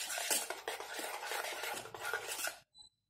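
Cake batter with ground cardamom is stirred briskly in a bowl, giving a quiet, rhythmic scraping and clinking of the utensil against the bowl that stops abruptly, followed by a faint tap.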